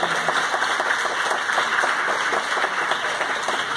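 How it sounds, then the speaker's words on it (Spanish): A crowd applauds steadily, dense clapping holding at an even level from start to finish without any voices standing out. "fuerte el aplauso para Ángel"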